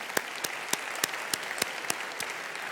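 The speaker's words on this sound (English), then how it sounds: "So now we're going to look around the room and clap for everybody that held some money up" Conference audience clapping for one another, a steady wash of applause with distinct individual claps standing out at an even rhythm, sustained throughout.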